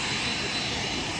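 Airbus A380 airliner jet engines at an airport, a steady broadband roar running throughout at moderate level with no break.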